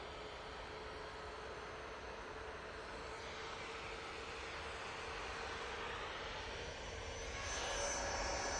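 An Etihad Boeing 777 jet arriving at Manchester Airport gives a steady, distant broadband roar that swells slightly toward the end, with no voices present.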